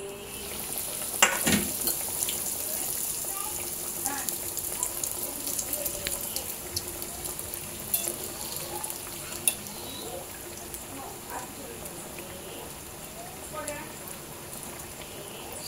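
Breadcrumb-coated soya chunk cutlets fry in oil on a slow flame, giving a soft, steady crackling sizzle with scattered pops and spits, fairly quiet and continuous.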